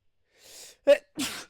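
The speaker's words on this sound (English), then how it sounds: "Oh, man, I got to sneeze." A single close-up sneeze: a quick inhale, a sharp burst, then a breathy exhale, with no talking.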